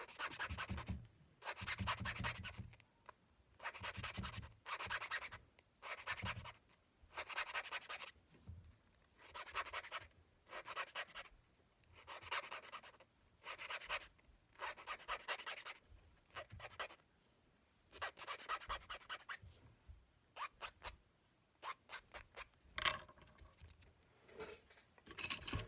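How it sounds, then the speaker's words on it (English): A hand file strips burrs from a sterling silver bezel in steady back-and-forth scraping strokes, grouped into repeated bursts with short pauses, close and fairly quiet. "my file, and I'm going to file off the burrs."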